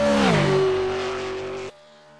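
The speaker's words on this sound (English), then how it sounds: "Hitting 290 kilometers an hour before he backs off the throttle onto the brakes." Venom race car at Bathurst flat out down Conrod Straight near 290 km/h, loud engine note climbing then dropping as the driver lifts off the throttle onto the brakes, cutting off abruptly near the end.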